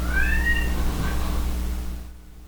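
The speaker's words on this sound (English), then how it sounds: "If not, put in a cat noise." A pet cat gives a single bright, rising meow near the start, close and clear over a low steady background hum, followed by fading quiet.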